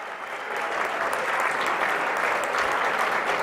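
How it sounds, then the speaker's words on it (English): Warm round of audience applause at a 2013 gala event, dense steady clapping swelling in after a brief moment and holding loud and even to the end, with little talk. "But as Terry's getting here, could I have a warm round of applause for our Da Vinci wizard himself, Mr. Cesare Casella."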